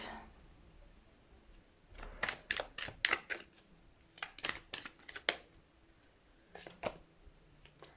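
Tarot cards shuffled and drawn, bursts of quick riffling flicks and slaps in several clusters, close and moderately loud against a quiet room hum, with no talking.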